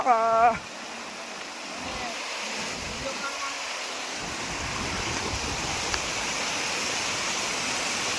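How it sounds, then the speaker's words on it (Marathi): A small waterfall at Harihar Fort makes a steady broadband rushing wash that continues evenly throughout, after a brief voice is heard right at the start. "छोटासा धबधबा"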